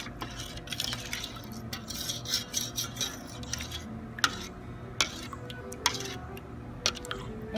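A turmeric-heavy spice and food color dye mixture is stirred in a container: continuous wet swishing and scraping, with a few sharp clinks of the utensil against the side, close and moderately quiet, no voices.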